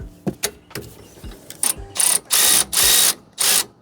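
Wrench removing rear brake caliper bolts on a car: a few light metallic clicks, then four loud, sustained ratcheting bursts in steady succession, close by with no talk.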